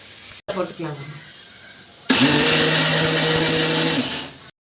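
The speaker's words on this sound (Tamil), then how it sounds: "நம்ம மிக்சியில் போடும்போது கொஞ்சம் தள்ளி அரைச்சோம்னாக்கா அது சீக்கிரம் மசிஞ்சிடணும்" Mixer grinder whirring as it grinds dried beans and carrot in the jar, a loud steady roar lasting about two and a half seconds after a short lower stuttering start.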